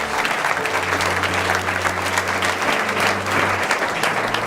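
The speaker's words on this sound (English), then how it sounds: "Give him another round of applause." Wedding guests giving a full round of applause, loud and sustained throughout, with a faint low musical tone underneath.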